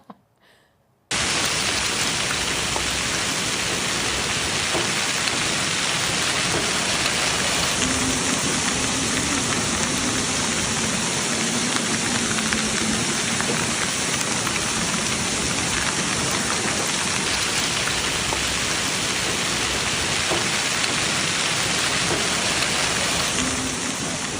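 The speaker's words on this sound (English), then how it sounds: "This is hail in Brentwood, Tennessee." Hail pelts a parking lot in Brentwood, Tennessee, driven by strong wind, a dense, steady roar of countless impacts that starts abruptly after a moment of quiet and continues unbroken at high volume, with no talking.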